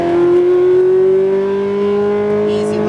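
A Ferrari F430 engine pulling hard on a track at Speed Vegas, a loud, close, rising engine tone climbing steadily in pitch over a few seconds.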